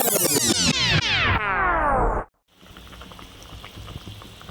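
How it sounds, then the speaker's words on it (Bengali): Tomato fish curry gravy for rupchand fish bubbling in a pot, a soft, faint simmering crackle that follows a sharp cut-off of a loud, pitch-sliding tonal sound. "ঝোলে জাল উঠে গেছে, মাছগুলো এবার দিয়ে নেব।"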